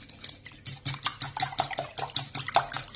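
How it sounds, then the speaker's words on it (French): A batter mixture for basbousa is stirred in a bowl, the spoon scraping and clinking in quick, irregular strokes with soft wet sloshes, close and fairly quiet. "On va bien mélanger."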